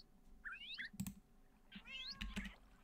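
A Minecraft cat gives two pairs of rising meows, fairly faint, with sharp clicks of keyboard and mouse between them and no talking.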